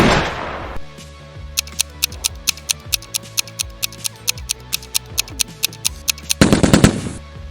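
Rapid series of sharp, evenly spaced gunshot-like cracks, about twenty in quick succession, fairly close and loud with no talking, closed by a short burst of broadband noise.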